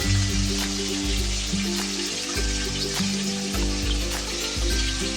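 Ginger and green chillies fry in a spice paste for a fish curry, giving a soft, steady sizzle beneath louder background music.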